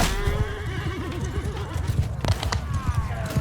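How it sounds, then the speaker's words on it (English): Horse whinnying loudly and close in Mount & Blade 2: Bannerlord, a shrill wavering neigh over clip-clopping hooves and battle noise. "I love this quick horse, though."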